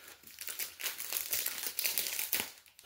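Thin protective plastic film crinkles and crackles close up as a diamond painting kit is unwrapped, in quick irregular bursts of rustling.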